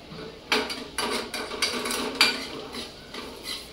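A spoon scraping and clinking against a pan while ghee is added to sheera, with a series of sharp metallic taps and scrapes at close range and no speech.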